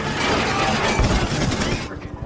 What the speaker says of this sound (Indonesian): mereka pun masih ditembaki oleh si Kazim